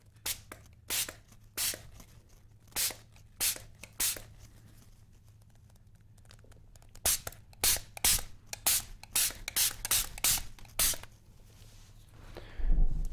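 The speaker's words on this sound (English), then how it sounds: "Alright, going to spray here." A spray bottle spritzes in quick bursts while cleaning a tree, five short sprays, a pause, then a rapid run of about ten more, close and crisp.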